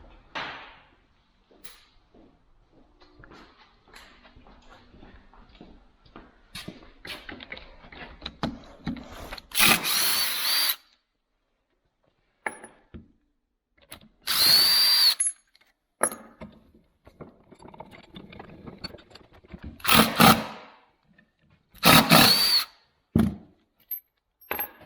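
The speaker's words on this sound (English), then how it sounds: "Drill." Power drill in a home workshop where a heavy vise is being moved to make room for a drill press, heard as several loud, brief bursts of whirring separated by quieter handling clatter and gaps.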